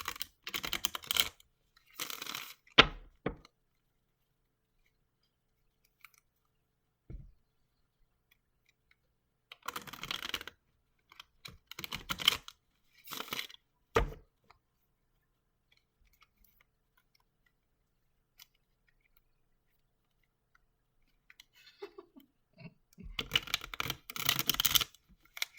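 Tarot cards shuffled by hand come through as quiet, crisp riffling bursts and taps in short clusters, separated by long silences.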